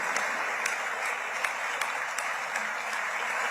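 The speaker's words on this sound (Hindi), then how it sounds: "सभी लोग जो है इजराइल के पार्लियामेंट में खड़े होकर तालियां बजा रहे हैं" Israeli parliament members on their feet clap together, a dense, sustained round of applause with a few sharper claps standing out, heard from some distance.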